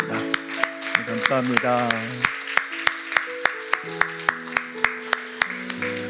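A church congregation at a harvest thanksgiving service claps in a steady, regular beat over soft organ or keyboard chords. A voice speaks briefly near the start.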